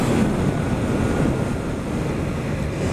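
A Triumph Trident 660 motorcycle accelerates hard on the road, its engine a steady, loud roar mixed with heavy wind buffeting at the microphone, with no talking.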